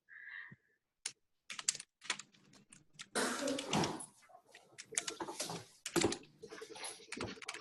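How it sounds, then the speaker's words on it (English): Keys clatter on a computer keyboard in quick, irregular bursts, dense at times and close to the microphone, with a brief bird-like coo at the start and no talking. "I know it looks like you're still typing it"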